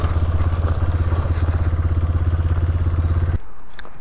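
A dirt bike engine, a Yamaha YZ85 or Honda CRF125, idles with a fast, loud, pulsing putter and then cuts to a quieter background.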